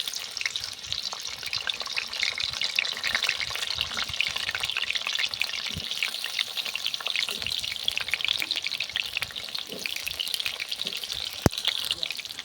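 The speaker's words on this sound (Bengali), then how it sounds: "আলুগুলো আমি এইভাবে ভেজে নেব, হালকা আঁচে লাল লাল করে ভেজে নেব।" Potatoes frying in oil over low heat give a continuous soft sizzle and crackle, steady and close, with an occasional sharp click near the end.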